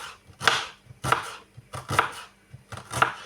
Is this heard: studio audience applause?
no